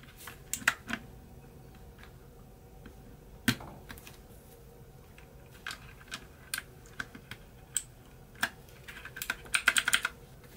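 Keycaps snapping onto a MAGEGEE MK-BOX gaming keyboard make scattered sharp plastic clicks, close and fairly quiet, with a quicker cluster of clicks near the end and no talking.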